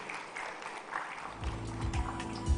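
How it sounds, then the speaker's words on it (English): Applause from an audience at a tech industry event greets a panelist walking onto the stage, a broad, moderately distant wash of clapping that swells slightly toward the end with some low rumble underneath. "Can we give a huge round of applause as we welcome her on the stage"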